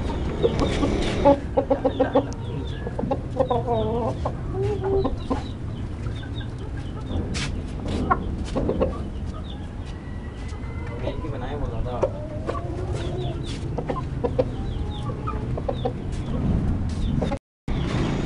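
Aseel chickens in caged pens at a fancy hen farm in Pakistan, clucking and calling intermittently at moderate distance while people talk nearly throughout.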